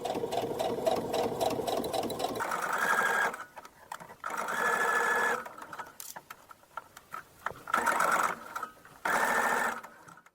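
A sewing machine fitted with a zipper foot stitches a pants zipper, running in several bursts of rapid mechanical chatter separated by brief pauses and soft handling clicks, close and clear with no talk.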